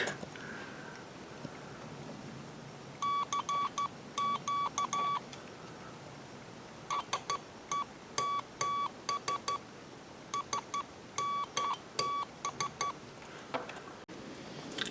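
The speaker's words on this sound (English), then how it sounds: "It's a code practice oscillator." Short bursts of a steady electronic beep tone from a code practice oscillator kit heard through headphones switch on and off in irregular keyed groups over faint background hiss.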